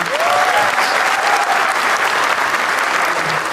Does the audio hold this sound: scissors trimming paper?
no